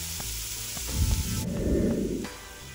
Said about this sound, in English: we've cooked these vegetables down a little bit till they're getting kind of, I guess, translucent